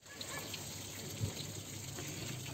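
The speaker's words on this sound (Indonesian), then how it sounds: "ini kita buang airnya" Coolant water drains steadily from a Nissan Serena C24 radiator during a flush, a continuous close gushing and trickling wash with an even level and no pauses.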